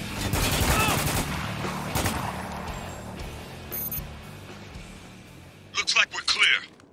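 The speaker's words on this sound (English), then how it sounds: "Heavy trooper is down! Under heavy fire!" Gunfire bursts from a battle in the video game Spec Ops: The Line, loud dense shots at the start fading into a busy mix with voices, then a few sharp close bursts near the end.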